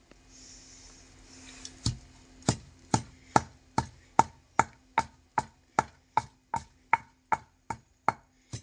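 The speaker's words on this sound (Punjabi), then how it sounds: "ਥੋੜਾ ਥੋੜਾ ਕਰਕੇ ਆਪਾਂ ਇਹਨੂੰ ਪੁਦੀਨੇ ਨੂੰ ਕੁੱਟ ਲੈਣੇ ਆ" Mint leaves pounded with a pestle in a mortar: a fast, even series of about fifteen sharp knocks after a quiet start, each dying away quickly.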